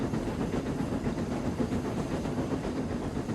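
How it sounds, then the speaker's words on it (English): A steam engine puffs past on the rails, giving a dense, steady, broadband chuffing and hissing rumble at close range for a few seconds. "Edward puffed by with a cheerful peep"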